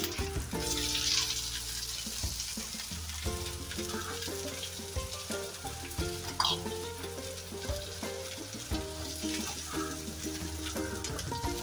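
Bitter gourd pieces, pre-marinated, are slowly stir-fried in oil in a pan, a steady sizzle running throughout with scraping and clinking of the spoon against the pan, close and fairly loud, with music-like tonal layers underneath.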